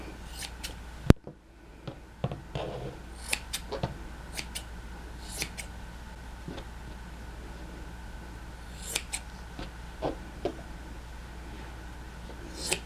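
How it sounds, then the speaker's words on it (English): Scissors trim fur in small, scattered snips, each a brief, faint click, with quiet pauses and handling noise between the cuts. "just make little cuts and move the fur out of the way so you can see what you're doing"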